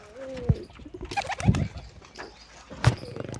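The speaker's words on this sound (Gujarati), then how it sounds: "જો મિત્રો લાલ કબૂતર બેઠો છે ઈંડા લઈને" A red pigeon sitting on its eggs gives a few soft, low coos at a steady spacing, close by with a little rustling in between.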